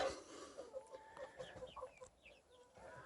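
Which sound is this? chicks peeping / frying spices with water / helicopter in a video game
chicks peeping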